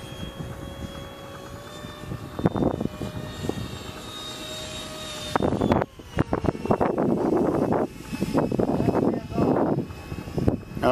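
A small E-flite F-16 Thunderbird RC electric jet flies past outdoors, its thin whine rising and falling in pitch as it passes, with gusty wind buffeting the microphone and brief bursts of voices.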